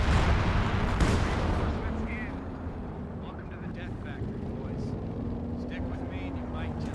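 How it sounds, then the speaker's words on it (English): Stuka dive-bomber barrage in Company of Heroes 2, a heavy rumbling wash of explosions with a sharp blast near the start, sustained and dense throughout with faint whistling tones and speech underneath. "that walking Stuka barrage just stopped the allies in their tracks"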